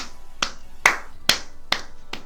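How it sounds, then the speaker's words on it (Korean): A single person gives five separate, sharp hand claps, close and evenly spaced at roughly half-second intervals, with quiet between them and no speech. "일단은 박수 한번 칩시다"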